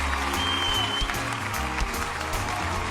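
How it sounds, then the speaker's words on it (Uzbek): A studio audience at the season finale of a singing contest claps for the winner, a dense, sustained round of applause running steadily under low music. "Mana bu olqishlar ham sizga."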